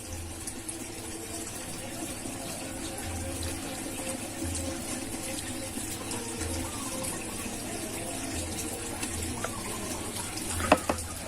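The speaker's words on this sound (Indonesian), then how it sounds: "kemudian airnya akan ditampung di bawah" Water trickling steadily into the reservoir of a homemade hydroponic celery setup built from used containers, a constant close splashing flow with a faint repeating low hum beneath and one small knock near the end.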